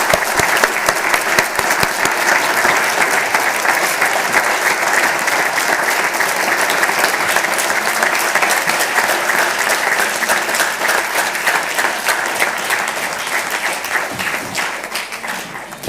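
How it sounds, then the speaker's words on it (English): A large standing audience at a model UN closing ceremony gives sustained, dense applause, loud and even, slowly thinning toward the end. "Please rise, this is your applause."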